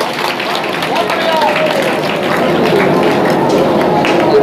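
An audience applauds after a stage play about Dr Ambedkar's life in Delhi, a dense, steady wash of many hands clapping that swells slightly louder toward the end.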